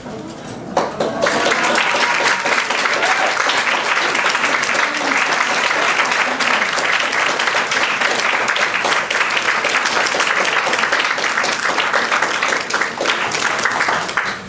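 Sustained, loud applause from a gallery audience honoring women artists at a talk, steady dense clapping that starts abruptly and continues without break throughout.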